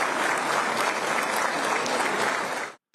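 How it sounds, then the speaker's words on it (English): Long, loud applause fills an Indonesian presidential inauguration hall, a dense steady roar of many hands clapping that runs unbroken before cutting off abruptly near the end. "the applause rang out long and loud."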